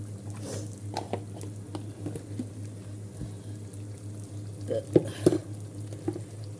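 Eggplant fries in a pan with a soft, steady sizzle over a low hum, broken by a few close scraping stirs and brief louder spatters near the end.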